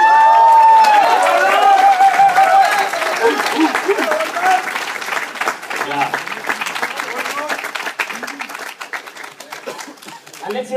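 A theatre audience at a community stage show claps and cheers for a cast member, a loud burst that opens with a shout and whoop, then settles into a steady wash of applause that slowly thins out over about ten seconds.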